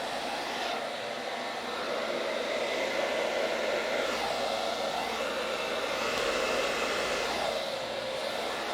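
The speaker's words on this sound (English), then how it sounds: "There are smaller blow dryers that you can use, but this is the one I've got on hand." A hair dryer blows steadily with a loud, constant whooshing hiss, its airflow swelling slightly now and then, running alone without voices.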